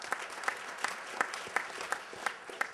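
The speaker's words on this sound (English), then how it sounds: "Let's give them a round of applause." A panel audience gives a brief round of applause for sponsors, sounding as a steady, regularly pulsing clap, fairly distant and moderate in level, with no speech over it.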